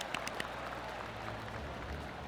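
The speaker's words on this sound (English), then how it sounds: "That deserves a golf clap." Polite golf clap from a gallery in the PGA Tour 2K25 video game at the Valspar Championship on the Copperhead Course, a soft steady patter of scattered hand claps at moderate distance, with no voices.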